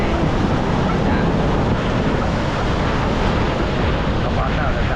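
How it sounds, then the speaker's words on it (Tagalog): Waves and wind at sea during a typhoon, heard as a loud, continuous roar of surf with heavy wind buffeting the microphone, dense and unbroken throughout. "sanay na rin kami sa alon, sanay na rin kami sa hangin"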